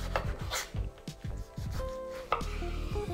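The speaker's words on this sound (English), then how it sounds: "now I kind of flip it over on the flat side and just kind of dice it." A kitchen knife dices sweet potato on a cutting board, giving a quick run of close, crisp chops in an uneven rhythm, with a few lighter scrapes between the strikes.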